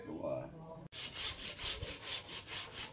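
A brief voice, then a hand saw cuts through a tree branch in quick, regular back-and-forth strokes, close and rhythmic.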